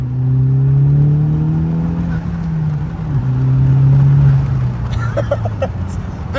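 A Honda Civic Type R FK8 fitted with an Eventuri cold air intake revs loudly up close, its steady engine drone rising and settling twice with a strong low hum, then tapering off into lighter mechanical clatter.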